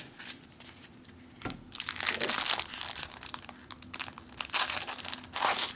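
Wrapper of a 1981 Topps baseball rack pack crinkling and tearing open, close and fairly loud, with bursts of crackling plastic that build and continue in irregular crunchy rustles.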